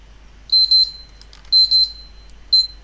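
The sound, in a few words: timer beeping in 7 Days to Die video game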